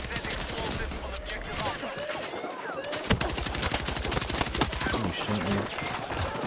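Rapid AK-205 rifle fire in Battlefield 6 crackles in dense bursts through close-range combat, with a sharp burst of regular shots near the midpoint, while an excited player shouts over the action.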